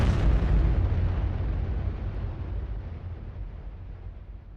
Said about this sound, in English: slammed into the North Tower of the World Trade Center, letting off an explosion that amounted to 7 million sticks of dynamite